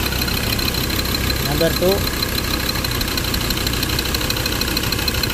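A car engine idles steadily with the cylinder 2 injector connector unplugged, in an engine with a misfire fault. Someone talks over the constant close rumble.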